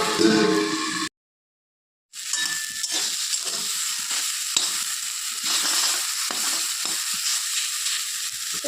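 Steady crackling sizzle of jute greens frying in a pan, close and continuous, broken by a brief silence near the start.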